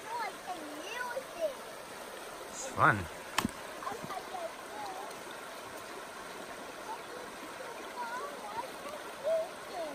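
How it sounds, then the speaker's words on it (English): Water in a small creek flows with a soft, steady rush, with a brief splash as a stick lands in it; a child's and an adult's voices talk over the water. "Did you just throw the stick into the creek?"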